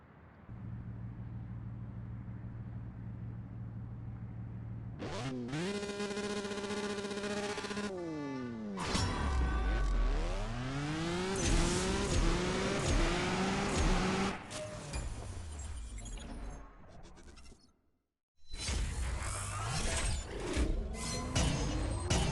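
A Lamborghini Sián FKP 37 in a CSR Racing 2 speed trap race, its engine revving and rising through repeated upshifts with sharp gear changes, loud and close, with a brief silent gap before it surges again.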